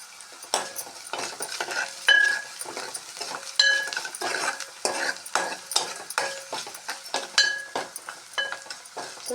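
Onions frying in a pan with turmeric for a cucumber, tomato and broad bean curry, a steady sizzle broken by repeated scraping stirs of a spoon against the pan, close and rhythmic.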